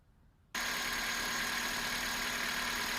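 Kia Rio car engine starting abruptly after a quiet moment and then idling steadily, a loud close continuous drone with a faint belt-like whine running through it.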